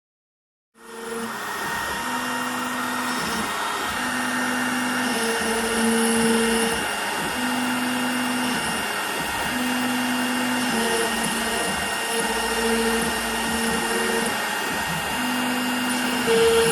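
A CNC router cuts with a 1.5 mm downcut bit in passes of 25 mm each, giving a loud, continuous whine with a pulsing, rhythmic tone as the tool moves through the material.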